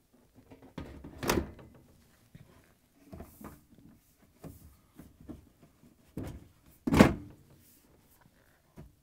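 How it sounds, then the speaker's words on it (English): A lower door panel is fitted onto a Bosch dishwasher, producing a series of quiet knocks and taps with two louder thuds, set against an otherwise silent room. "Install the door panel."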